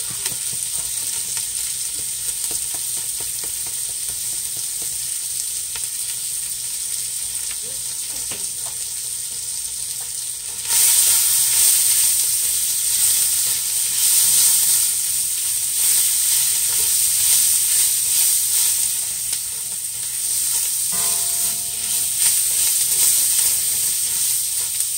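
Onions and zucchini frying in a pan with extra turmeric give a continuous crackling sizzle, close and steady, briefly growing louder and brighter partway through as the food is stirred.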